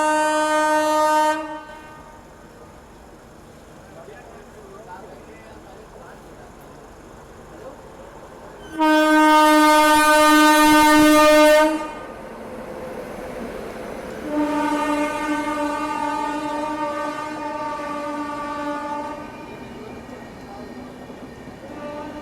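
A Bharat Gaurav tourist special train sounds long, loud horn blasts in separate bursts, one short, one sustained and harsh, then a softer prolonged toot, over the rumble of rail travel.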